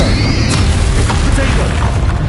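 Spell blasts from Bombarda and Confringo strike a dragon in a PS5 Pro video game, making a loud, dense run of booming explosions with rumbling low end and voices mixed in.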